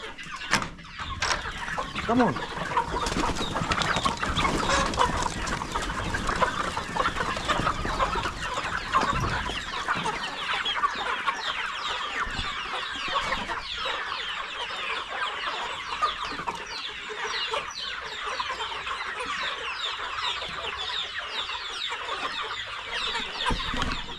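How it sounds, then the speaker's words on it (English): A flock of chickens clucks and squawks continuously in a busy, close chorus for over twenty seconds, with someone speaking intermittently over them. "now my chicken have developed different sounds"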